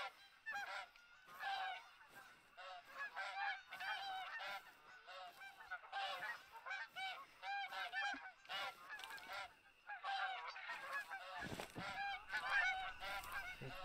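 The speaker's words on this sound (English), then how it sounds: "Geese should be just over this hill." A flock of geese honks in TheHunter: Call of the Wild, many overlapping nasal calls in busy bursts with short pauses, fairly faint and distant-sounding, with a low thump near the end.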